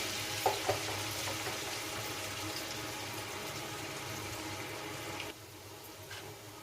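Lentil fritters fry in hot oil with a dense, steady sizzle and a few light taps early on. The bubbling drops noticeably softer near the end, close by with no talking.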